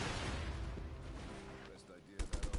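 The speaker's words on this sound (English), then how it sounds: "Nice explosion." Explosions and gunfire in the open-world action game Just Cause 3, a dense rumbling barrage with sharp bursts near the end, mixed under game audio and possible voices.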